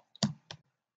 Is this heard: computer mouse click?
yes